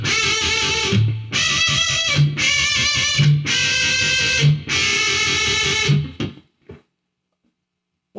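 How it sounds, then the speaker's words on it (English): Heavily distorted electric guitar playing double stop bends in a metal style, one fretted note and one bent note on the string below; five sustained, loud bends in a steady rhythm, then a quick cutoff to silence. "This technique is called a double stop bend."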